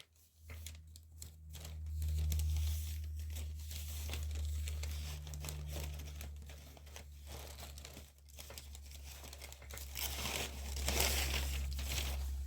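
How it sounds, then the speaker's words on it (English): Perforated packing paper crinkles and rustles steadily as it is handled for a craft project, close to the microphone, with bursts of crumpling and tearing-like crackles and no talk. "Lots of rustling going on here."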